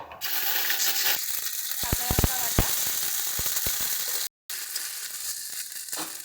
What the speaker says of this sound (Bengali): তেলটা গরম হয়ে এসছে এর মধ্যে আমরা কালো জিরে দিয়ে দিচ্ছি